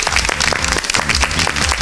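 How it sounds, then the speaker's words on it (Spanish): A studio audience at a televised Argentine science show bursts into loud, dense applause, sustained clapping close and even throughout. "Le damos un aplauso."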